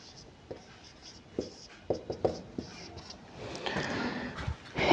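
Chalk or marker strokes as a solution is written on a board during a class 10 geometry lesson on circles, a series of short scratchy taps and drags, fairly faint over a low hum.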